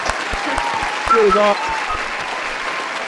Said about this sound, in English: Cue the claps.